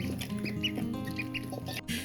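Rare Cayuga ducklings, five days old, peep in a steady run of high little calls close by, with no talking.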